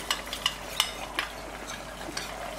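A spoon stirs cornflour loosely mixed with water for a green chicken curry, making soft rhythmic scraping and clinking strokes in a bowl, close and steady against faint background hiss.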